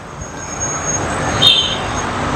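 Street traffic by the Russian Market in Phnom Penh, Cambodia, heard from a balcony: a steady wash of motorbikes, tuk-tuks and cars with a brief horn toot partway through, no voices.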